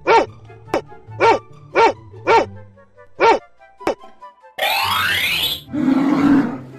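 A dog barks sharply seven times in a fairly regular rhythm, loud and close, followed by a burst of whooshing noise and a rumbling growl.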